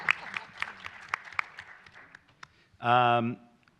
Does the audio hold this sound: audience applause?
yes